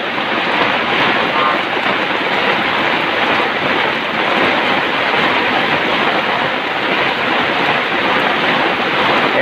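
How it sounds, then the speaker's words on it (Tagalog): Heavy rain pours down in a loud, steady wash of noise with no letup. "Kaya umulan na naman ng malakas mga lods. Talagang ayaw humpay ng ulan."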